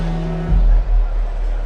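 A Formula One car's engine roars loudly at close range on Monza's main straight, a steady high-revving drone that dips briefly before continuing.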